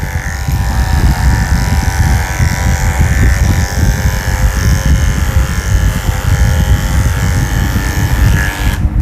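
Electric grooming clippers buzz steadily and close up while shaving the dry coat of a Pekingese dog, a continuous whirring hum with no talking.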